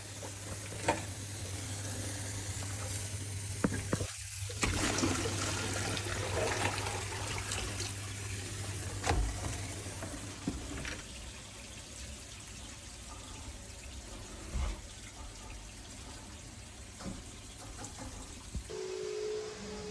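Hot water runs steadily through a tightened sink trap under test, a continuous close trickling and gurgling flow with a brief sharp knock partway through.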